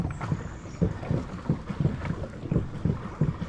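Rhythmic low thumps and splashes repeat steadily as a paddle boat churns across a lake, with light wind noise in the background.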